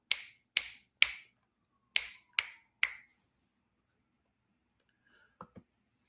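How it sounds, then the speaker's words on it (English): Six crisp finger snaps ring out close and loud in a quick uneven series, followed by silence and two faint small clicks. "I'm snapping, snapping, snapping, snapping my fingers."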